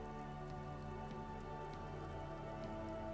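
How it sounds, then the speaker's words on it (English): Rain falls in the Disco Elysium game as a faint, steady patter of drops on surfaces, layered over a quiet sustained tonal background, with no one speaking. "Rain falls down on the world."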